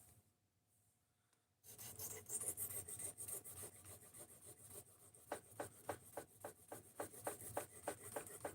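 A knife blade is sharpened on a 3000 grit whetstone, with soft, steady scraping strokes heard up close that grow into a quick regular back-and-forth rhythm after a short quiet start, and no talking.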